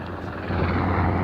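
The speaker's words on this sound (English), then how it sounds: "Now this is a military helicopter." Military helicopter passing low overhead near a beach, a steady loud rotor and engine drone that swells as it comes closer, heard alone with no talk.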